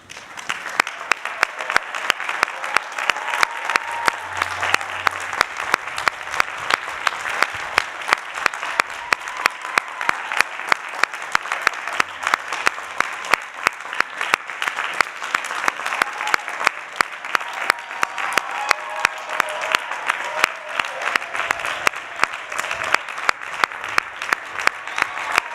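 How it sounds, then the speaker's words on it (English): A large audience at a university MA graduation convocation gives a long, sustained round of applause, dense rapid clapping at steady loudness for the whole stretch. "Will the candidates please stand so that we may give them a final round of applause?"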